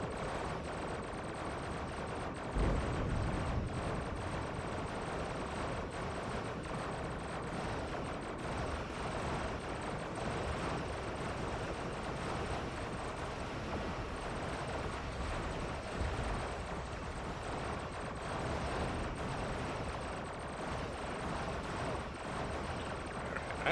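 A Gatling Emitter weapon in a video game fires continuously, a dense, unbroken rapid-fire roar with heavy rumbling bursts sustained for over twenty seconds, loud and close with no pauses.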